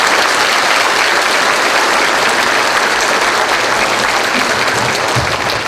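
Sustained, loud audience applause from a theatre crowd as the hosts walk onto the stage of a Polish variety show, dense even clapping filling the whole stretch without a break.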